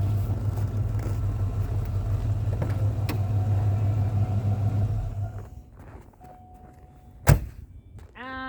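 A car engine idles with a steady low rumble, then cuts out and falls quiet, followed by a sharp thunk and some faint clicking.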